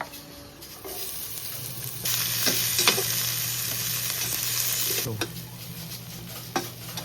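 Ingredients stir-fried in a pan at a campsite farm, a steady loud sizzle that swells partway through, with scraping stirs and a few sharp clinks over a low hum.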